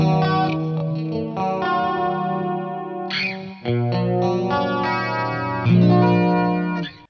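Electric guitar through a BOSS Katana MK2 amp using the middle or combined pickups, playing a run of sustained chords and notes with chorus-like shimmer, close and steady with no talk.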